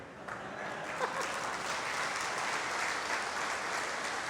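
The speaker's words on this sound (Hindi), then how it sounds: "जब आप ताली बजाते हो तो वो दबते हैं" A crowd claps steadily and loudly throughout, a dense continuous wash of applause with no pauses.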